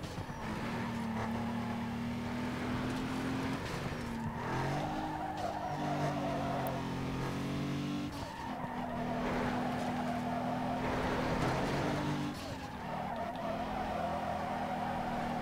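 A Hyundai Tiburon races in Need for Speed Underground 2, its engine droning loudly and steadily with gear-change dips in pitch while tires squeal and skid through corners.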